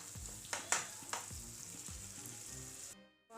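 Chicken paneer keema roasting in a pan over a low flame, a quiet steady sizzle with a couple of stirring knocks early on, close and alone, cutting off near the end.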